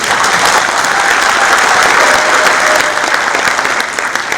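A large audience at a comedy poetry show in Dubai gives loud, dense, sustained applause that fills the whole stretch evenly, with no speech over it.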